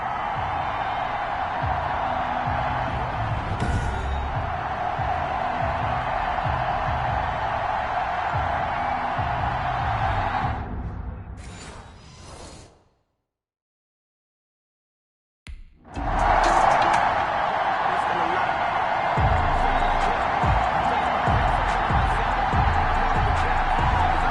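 A sold-out stadium crowd in the Madden 21 football game cheers as a steady, loud roar that drops to silence midway, then surges back.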